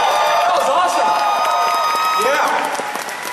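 Audience at the Animethon 2024 anime convention opening ceremony applauds and cheers after a musical number, a steady wash of clapping with whoops and a few tonal sounds mixed in, under a voice talking.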